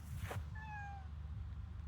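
A cat gives a single short, faint meow, its pitch sliding slightly downward, against a low steady background hum with no one speaking.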